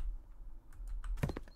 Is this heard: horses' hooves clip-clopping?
no